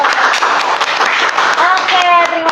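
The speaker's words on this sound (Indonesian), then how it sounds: "Tepuk tangan dulu." An audience at an indoor product presentation applauds with a dense, steady patter of many clapping hands, mixed with voices talking over it.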